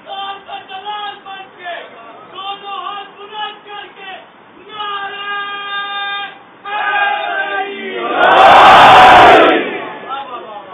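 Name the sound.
crowd chanting a religious slogan (nara) at a majlis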